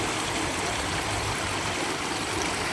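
A river flows beside a garden, a steady close rushing and trickling wash of water with no pauses and no voices.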